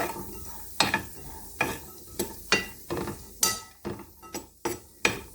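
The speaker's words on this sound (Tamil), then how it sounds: "ஒரு பொன்னிறமாகும் வரைக்கும் நல்லா வறுக்க வேண்டியதான்." Boondi fries in oil until golden while a metal ladle or slotted spoon scrapes and clinks against the pan in irregular strokes over a soft sizzle, made for boondi laddu.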